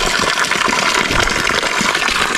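Cold spring water pours steadily at a mountain water source near the summit of Mount Pulag, a loud, close, continuous gushing splash with no talk over it.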